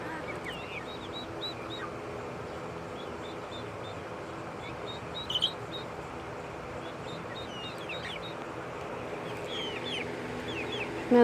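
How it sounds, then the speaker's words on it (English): Backyard chickens, including a Rhode Island Red and silkies, cluck softly and steadily alongside occasional quacking ducks, a faint continuous flock chatter with a few brief louder calls. "Goldilocks, my little bitty Rhode Island Red"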